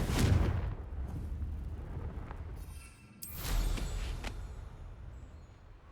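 A Confringo spell blast in the video game Hogwarts Legacy, a booming burst followed by a second crackling explosion with rumbling low-end debris, fairly loud and with no talk.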